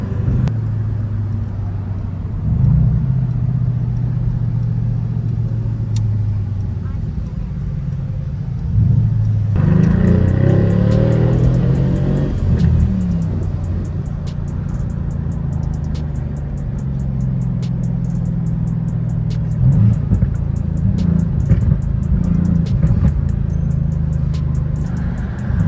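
A Mercedes-AMG V8 biturbo engine in Sport Plus mode rumbles steadily from inside the car while it drives through slow Las Vegas traffic, with low, continuous drone and occasional mild swells of revving, no talking.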